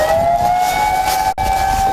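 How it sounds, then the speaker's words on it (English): A steady, loud warning siren wails in a sustained tone during a tsunami alert on the East Coast, with a brief drop partway through and no talk. "Just then, the siren."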